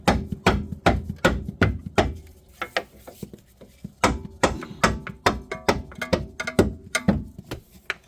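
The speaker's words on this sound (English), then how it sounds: "Use a mallet." A mallet tapping a front lower control arm into place on a 2003–2007 Infiniti G35, a series of sharp, close knocks in uneven bursts with short pauses between them, no talk.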